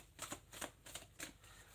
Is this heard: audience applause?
no